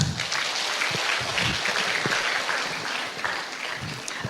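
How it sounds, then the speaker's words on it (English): An audience at a live guest talk claps steadily after a tabletop demonstration with a stick and feather, a dense, even wash of many hands holding at a fairly constant level throughout. "I think you should clap."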